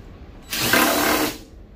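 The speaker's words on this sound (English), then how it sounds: "what we're gonna do first is we're gonna take out all these screws. They're star bits." Short whirring burst of a power driver backing a star-bit screw out of a microwave casing, lasting under a second between quiet moments.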